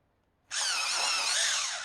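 A battery-operated pencil sharpener grinds a colored pencil, a steady high whirring buzz that starts abruptly after a brief silence and runs continuously, close and fairly loud, with no talking.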